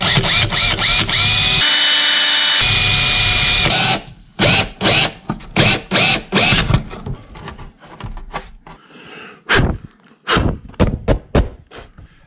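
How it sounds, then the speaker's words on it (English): A power drill with a small hole saw whines steadily through plastic on a Harley-Davidson Street Glide tour pack for several seconds, then stops and restarts in short bursts, its motor revving up and down close by. "I'm using a little hole saw here. I'll drill it out and then punch it through."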